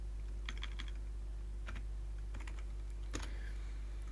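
Quick, light keystrokes on a QWERTY computer keyboard, a few short bursts of clicks separated by pauses over a steady low hum, close and fairly quiet, no talking.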